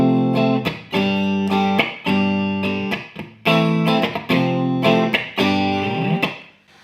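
Clean electric guitar through a true bypass signal path into a Hughes & Kettner Statesman Quad EL84 1x12 amp, played as a sequence of strummed chords with sharp attacks and short ringing decays, close and loud with no voices.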